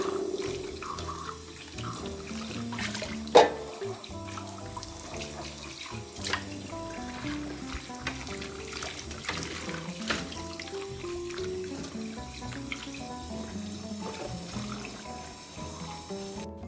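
Tap water runs steadily into a kitchen sink while dishes are washed, a continuous close splashing with a few louder clinks of crockery throughout.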